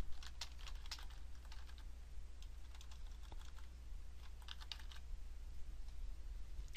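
Computer keyboard typing while entering text in Adobe Illustrator: quick, irregular bursts of key clicks at close range over a low, steady room hum, with no talking.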